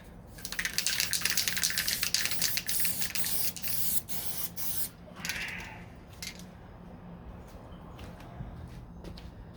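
Spray gun hissing as a second coat of paint goes onto the door of a 1969 Corvette C3, close and fairly loud in bursts at first, then fading to quieter intermittent spraying.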